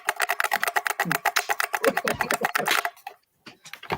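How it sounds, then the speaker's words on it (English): Rapid, crisp clacking of a clicky Apple keyboard with Alps mechanical switches, a steady run of keystrokes up close that stops abruptly, followed by a couple of stray taps. "Nothing like a good Apple Alps keyboard."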